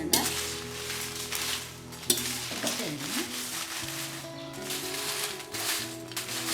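Dried chillies dry-roasting in a pan for Jaffna chilli powder, with steady scraping and stirring strokes and a faint crackle throughout, plus a sharper clink of a utensil on the pan near the middle.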